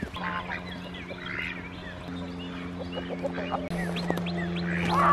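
A goose honks repeatedly outdoors on a farm with a potato patch, the calls mixed with other fowl and duck-like quacks over a steady low hum, moderately close.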